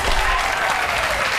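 A studio audience breaks into dense, loud applause that fills the space evenly, then cuts off abruptly.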